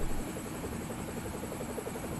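A helicopter carrying a roughly 2,250-pound slung load of dimensional lumber and a generator over the Grouse Grind trail gives a faint, distant, steady rotor drone with a soft rhythmic beat, and no voices are heard.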